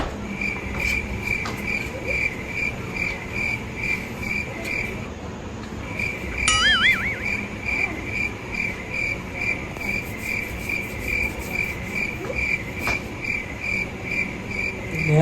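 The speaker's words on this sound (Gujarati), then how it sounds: "મચ્છરા કઈ છે આટલા" Steady, high insect whine of mosquitoes indoors under a fan at night, continuous and fairly close, with a brief sliding tone partway through.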